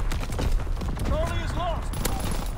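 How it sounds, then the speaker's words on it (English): Division artillery in a WWII video game fires a rapid, continuous crackle of distant shots and booms under battle noise, with a voice speaking over it. "Firing division artillery."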